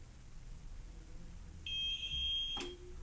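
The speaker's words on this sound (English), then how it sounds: "press and hold the button until you hear the beep" An APC Smart-UPS rackmount unit that won't turn on beeps during a cold start while its button is held, giving a steady high electronic tone lasting about a second over a quiet room hum, ending with a sharp click.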